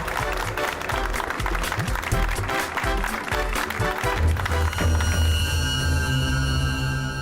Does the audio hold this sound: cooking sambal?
no